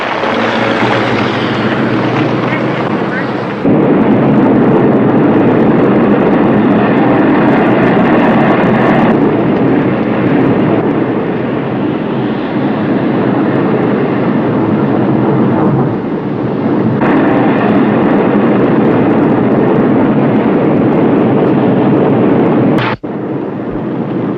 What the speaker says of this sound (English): Those are Minuteman missiles.